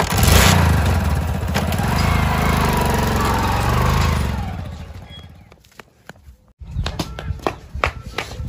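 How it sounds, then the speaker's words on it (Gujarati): Two motorbikes arrive on a village road: a loud, rough engine rumble fills the first five seconds, then cuts out and gives way to scattered clattering knocks nearby. "લે બે બાઈક વાળા આયા."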